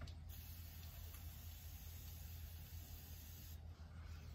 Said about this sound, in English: I'm actually gonna wet my sponge with this Evian.